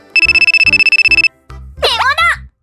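A telephone bell rings in a rapid repeating trill for about a second, then a voice speaks briefly over low background tones.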